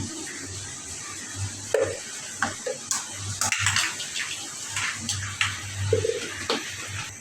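Water poured into a pot of cooking paya, with sloshing and splashing bursts, sizzling and a few clinks of utensils against the pot at close range.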